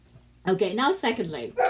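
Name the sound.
dog barking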